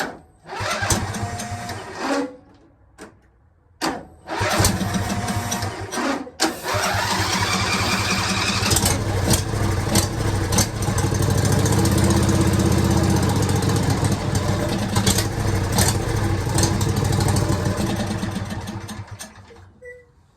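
Briggs & Stratton Intek 21 HP engine starting on carb cleaner: a few brief cranking bursts, then it catches and runs loudly and steadily for several seconds before dying out.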